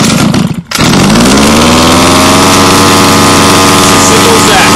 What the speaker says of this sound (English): We're going to pull the pull start just a couple times until we hear it fire.